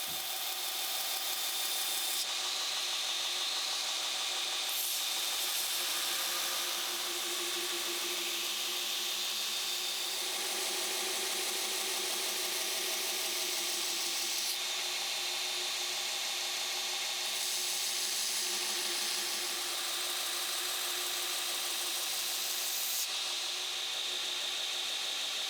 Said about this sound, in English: get back to the blade where Sean is grinding the bevels